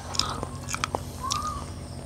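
Biting and chewing on a spoonful of Karen kanom dessert, a soft sweet treat, with a few close crisp bites and mouth sounds over a quiet room hum.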